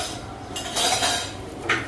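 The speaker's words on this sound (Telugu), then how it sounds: "అన్నీ వేసుకొని చక్కగా మిక్స్ చేసుకోవాలి." Coconut and chana dal chutney ingredients with chili powder and salt being mixed in a dish, giving scraping, clinking utensil sounds in short bursts, close and moderately loud, with no talking.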